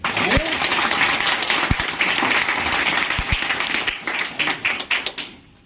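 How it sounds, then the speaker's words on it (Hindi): An audience at a closing event applauds with dense, continuous clapping under a speaker's voice, thinning into scattered individual claps before fading out. "जोड़ा ताली होनी चाहिए"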